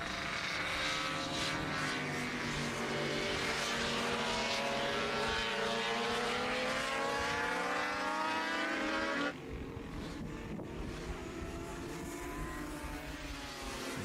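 Classic racing motorcycles, including Classic Superbikes, 250 GP machines and a 350, scream past on a race track. A loud, continuous engine howl shifts in pitch as the bikes go by, then cuts abruptly to a quieter rumble.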